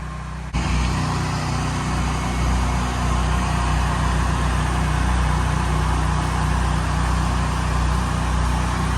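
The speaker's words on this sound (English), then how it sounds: "Just soft washing this with a 12-volt pump." A 12-volt pump running for soft washing during graffiti removal starts up abruptly and then holds a loud, steady motor hum with no break.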